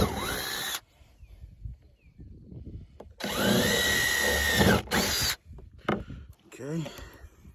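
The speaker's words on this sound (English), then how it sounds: "I'm gonna drill them out and then put the last 2 screws in." A power drill boring holes for the screws of a boat console whines in two close, loud bursts, a short one and then a longer run, with a person talking in the quieter gaps.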